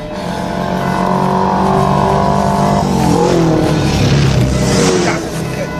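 A car drives past in a German crime radio drama, its engine swelling loud and close with a broad, steady roar before the pitch drops away as it passes, then continues fading under rushing noise.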